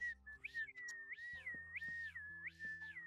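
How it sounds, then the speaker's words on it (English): A person whistles an odd, wavering tune, rising and falling in repeated swoops across several notes, close and clear over faint background sounds. "You whistling all funny again, because that's really weird when you do that."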